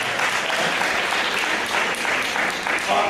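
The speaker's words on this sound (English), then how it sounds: "Let's give them another round of applause, please." Dense, steady applause from a summit audience for a panel on mental health and wellness, loud and continuous throughout, with some voices faintly mixed in.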